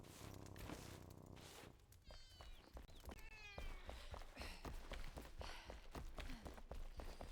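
A cat meowing inside a video game beside a campfire, several short meows standing out over game background sounds and soft footsteps, fairly close and clear.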